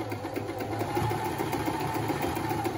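An AEG Multi Function NM 510 sewing machine stitches a seam with a steady, fast mechanical chatter and low motor hum, close by and continuous throughout.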